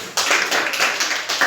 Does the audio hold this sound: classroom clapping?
yes